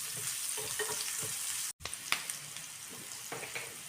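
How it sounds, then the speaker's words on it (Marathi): Chopped onion frying with cumin in oil in a pan, a soft, close crackling sizzle with light stirring taps, briefly cut off by a short gap before resuming; no speech. "थोडासा कांदा भाजून घेऊया"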